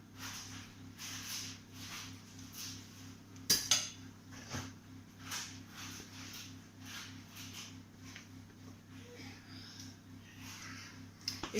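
A silicone spatula scrapes thick pistachio-cherry cake batter from a bowl toward a mold, giving soft repeated smears and light utensil knocks with one sharper clatter near the start, over a steady low kitchen hum, close and fairly quiet.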